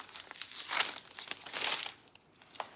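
Packing tape being pulled and peeled during a plant unboxing, giving close, crackly crinkling and tearing bursts in a few quick pulls, with no talk.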